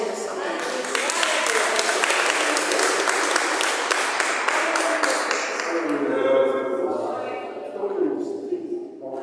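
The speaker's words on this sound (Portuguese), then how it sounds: "E as palmas exaltam o nome do Senhor nessa noite." Church congregation applauding during a worship service, dense sustained clapping from a crowd that thins toward the end, with voices underneath.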